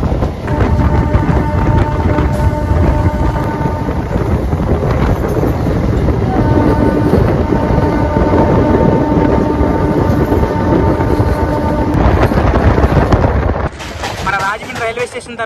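The Rajahmundry–Visakhapatnam MEMU Express 07466, heard from on board as it rounds a long track curve, gives a loud, continuous rumble and wheel clatter with steady tonal whine, and a voice talks over part of it.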